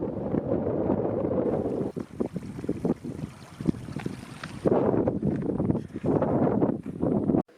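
Strong wind buffets the microphone beside the Snowy River in the Australian mountains on the way to Mt Kosciuszko, making loud, uneven low rumbling gusts that roar continuously throughout with no clear speech.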